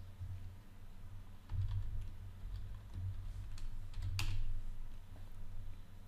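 Bet sizes being typed on a computer keyboard in poker solver software, a few quick clusters of light key taps over a quiet low room hum, soft and close, with no voice.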